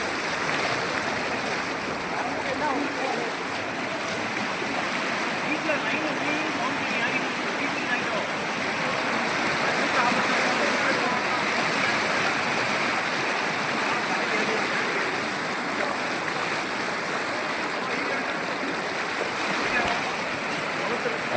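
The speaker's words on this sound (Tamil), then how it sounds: "இந்த டானா சைடில் திருவள்ளூர் நகர் ரோடு சைடில் இந்த இந்தளவுக்கு தண்ணி வந்திருக்கு" Floodwater after rain flows along a roadside in Tirunelveli, giving a steady, loud, broadband rush like a stream that continues without a break, close by and with no clear speech.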